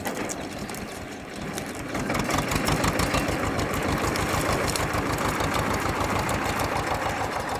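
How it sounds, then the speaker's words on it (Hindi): A tractor engine runs at idle on a farm, a steady mid-pitched rumble with rhythmic knocking pulses that grows louder after a couple of seconds and holds even and close throughout. "ट्रैक्टर है"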